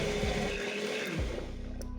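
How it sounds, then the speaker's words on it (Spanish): Electric blender whirring loudly and steadily while blending garlic sauce with boiled eggs, its motor pitch shifting briefly as the load changes, close and continuous with no talk. "Y debemos licuarlos por espacio de 2 minutos y medio a 3 minutos aproximadamente, haciendo pausas cada minuto y removiendo de ser necesario"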